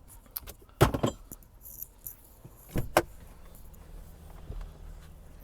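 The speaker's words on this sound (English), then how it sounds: "Let's just pull out the keys." Keys jangling as they are pulled from the ignition of a 2020 Chevrolet Silverado 2500HD Custom gas pickup, a few close metallic jingles in short bursts inside the quiet cab.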